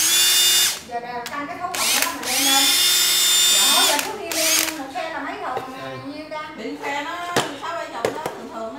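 A cordless battery hammer drill runs in loud bursts with hammer mode in use, the whine rising and falling between pauses as someone talks over and between the runs.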